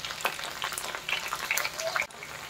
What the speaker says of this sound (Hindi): इसे हाई फ्लेम में 2 मिनट के लिए फ्राई कर लेते हैं।